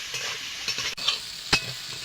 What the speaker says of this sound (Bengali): আমি মাছটা নাড়াচাড়া করে ভেজে নেব।